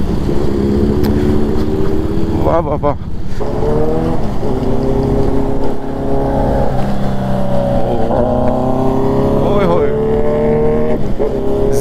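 Several motorcycles, a Kawasaki Z900 among them, rumble loudly on an early-morning road in Pune, with revs rising and falling as they pass, and a man exclaims in admiration over the steady engine noise.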